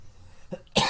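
A single short, sharp cough bursts out near the end after a quiet, faintly murmuring moment, close and fairly loud.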